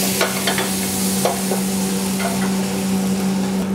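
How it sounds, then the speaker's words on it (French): Vinegar deglazes a hot frying pan for a Liège-style meatball sauce, producing a loud, steady sizzle with a low hum underneath and a few scraping strokes of a utensil across the pan. "On va commencer par déglacer la poêle,"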